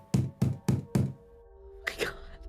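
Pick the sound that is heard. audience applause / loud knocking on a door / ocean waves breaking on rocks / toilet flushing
loud knocking on a door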